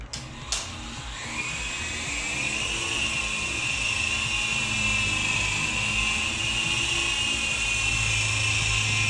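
World Tech Toys Grizzly 3.5 channel RC helicopter lifting off, a brief click followed by a steady, high-pitched rotor and motor whine that spools up and holds, close by.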